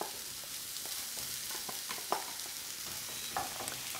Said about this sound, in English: And there, into the onions